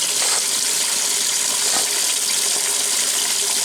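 Water pours steadily into a 1996 Maytag Dependable Care Plus washing machine tub set for an extra-large load of colors, a continuous loud gushing rush with no speech.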